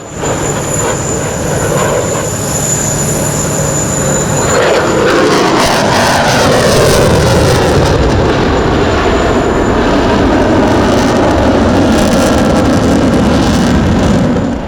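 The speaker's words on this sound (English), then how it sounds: "the Latvian Baltic Bees with their 4 L-39 Albatros jet trainers" Several L-39 Albatros jet trainers of an aerobatic display team pass at the Dubai Airshow, a loud continuous jet roar with a rising and falling pass and a whining engine tone, with no talking.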